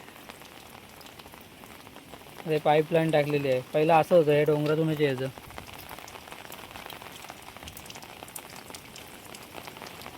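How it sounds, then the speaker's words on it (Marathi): Steady rain patters throughout, with a voice speaking over it for a few seconds in the middle. "पुन्हा पाऊस पाऊस"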